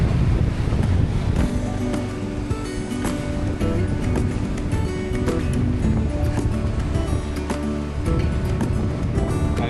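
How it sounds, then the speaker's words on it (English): Wind and waves at sea aboard a Nautitech 40 catamaran in 18 knots of wind, a loud, steady roar of gusting wind across the microphone and rushing water, continuous throughout with no pauses. "18 knots of wind."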